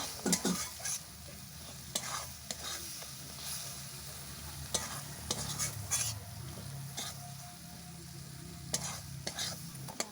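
Masala cooking down with a splash of water in a pan for a soybean and potato curry, a steady hiss and sizzle broken by repeated sharp scrapes and clinks of a spatula against the pan, close by and without speech.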